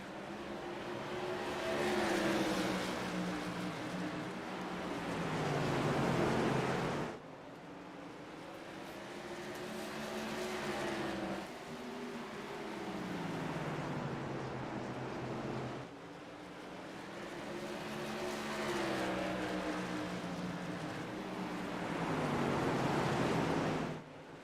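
Tour Modified race cars lapping New Smyrna speedway, loud engines swelling and fading as they pass in repeated waves, pitch sweeping down with each pass, heard from trackside with no talking.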